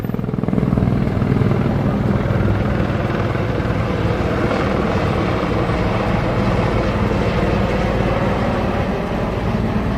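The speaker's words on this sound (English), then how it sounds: "That is a Life Flight helicopter." A Life Flight medical helicopter landing close overhead, its rotor thrumming loudly and continuously with a deep, steady roar that barely changes throughout.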